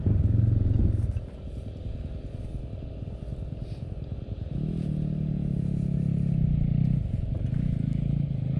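A motorcycle engine at a Bonita Springs off-road race event fires up and revs, a loud, close rumble that surges early, drops to a steady idle, then swells again into a sustained rev before easing slightly.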